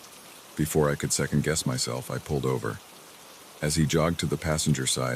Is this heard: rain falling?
yes